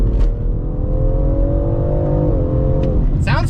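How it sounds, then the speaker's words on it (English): A stock-exhaust inline-six in a 2020 BMW X3M revs smoothly, its steady engine tone climbing slightly and then dropping, close and loud, with a brief whir near the end. "That inline 6 just sounds smooth and doesn't have that raspy fart like the F80 generation of engines did."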